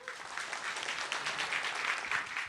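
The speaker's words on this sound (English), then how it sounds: "Let us give a warmest round of applause" An audience applauds continuously for a couple of seconds, moderately loud and steady, welcoming a speaker onto the stage at an evening talk.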